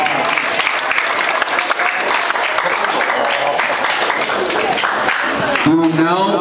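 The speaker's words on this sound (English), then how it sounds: "Another great round of applause to the Yogi Martial Arts of Cyprus" Audience at a Korean War armistice anniversary ceremony of the US 40th Infantry Division applauding the Yogi Martial Arts team of Cyprus, dense sustained clapping that ends with a voice near the close.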